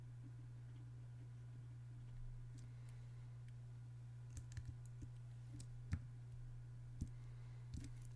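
Keys on a computer keyboard tapped while editing a portrait in Photoshop, a few sparse, faint clicks over a quiet steady hum, no talk.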